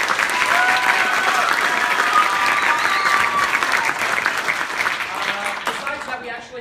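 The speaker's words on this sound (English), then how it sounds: "So let's give them a round of applause." Audience applause after a Sundance-style Hansel and Gretel stage show, steady loud clapping throughout with a few cheers and voices mixed in, tapering slightly near the end.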